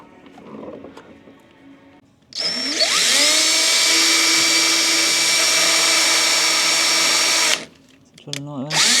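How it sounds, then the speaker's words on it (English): A power drill bores through the metal body of a BMW E36 to fit polycarbonate windows. It gives one long, loud, steady whine that rises in pitch as it spins up, stops abruptly, then starts again briefly. "what I'll end up doing is drill through there and drill through down here somewhere"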